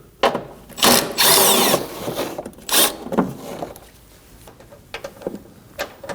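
A ratchet and socket working a 10mm bolt on the washer fluid reservoir of a 2016-2023 Honda Pilot, with a few close, loud bursts of rapid clicking separated by quieter handling noises.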